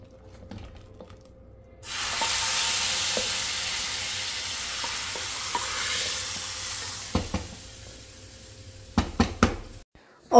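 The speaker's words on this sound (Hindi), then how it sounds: "तो मैं तड़के में थोड़ा सा ज़ीरा डालती हूँ, सूखी लाल मिर्चें डालती हूँ, और ये फ्रेश बिल्कुल कटा हुआ लहसुन में डालती हूँ।" Cumin seeds, dried red chillies and freshly chopped garlic hit hot oil for a dal tempering, bursting into a loud sustained sizzle that fades slowly, followed by a few sharp knocks of utensils near the end.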